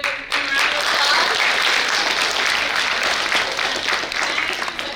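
An audience applauds a student, breaking into loud, sustained clapping after a brief moment of quiet and keeping a full, even roar of hands to the end.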